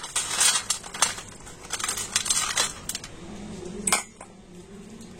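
Crisp fried sabudana kurkure clatter and rustle as they are tipped onto a plate, a dense run of light crackling clinks that ends with a sharp knock, then near silence.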